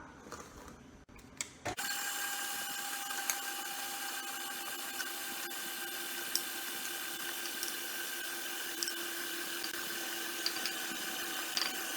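An electric mixer beats a flour dough of wheat flour, baking powder and salt at low speed. It kicks on after a short quiet start and runs with a steady whirring hum, with faint clicks and knocks from the bowl.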